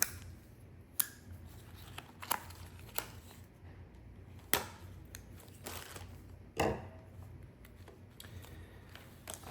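Scissors cutting through a dog harness, heard as a handful of sharp, separate snips spread irregularly over several seconds. They sound close but fairly quiet against a soft background.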